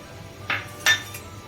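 Sago pearls are stirred in a thick-bottomed pan on a gas stove, and the spoon gives two sharp metallic clinks against the pan over a faint, steady background. It sounds close, with no voice.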